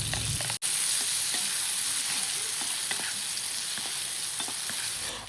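Loud, steady sizzling fills the whole stretch as cut eggplant and other vegetables fry in a hot pan for a vegetarian dish, with a single sharp click near the start and faint stirring scrapes underneath.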